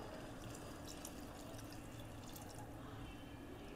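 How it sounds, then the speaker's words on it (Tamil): Thick coconut milk pours into a pan of cooked vegetables with a steady, soft liquid rush and faint splashing, continuous and low throughout with no one speaking. "நல்ல திக்கான தேங்காய் பால் ஊற்றிக்குவாங்க"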